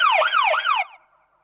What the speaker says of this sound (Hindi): ये तो पुलिस है, नहीं एम्बुलेंस है।